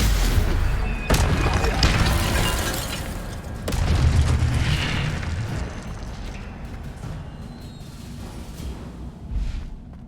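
Spell impacts from Stupefy duels in Hogwarts Legacy, a series of loud booming bursts with sharp onsets around one and four seconds, then trailing rumbles and magical swooshes fading toward the end.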